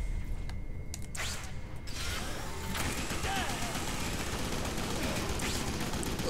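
Turrets in The Amazing Spider-Man game fire in dense rattling bursts, a continuous clatter of gunfire and mechanical noise filling the scene with someone talking over it.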